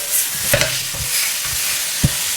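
Chayote and fried tofu are tossed in a hot wok, loud close clanks of the spatula against the pan over a bright sizzle, several quick strokes in a row.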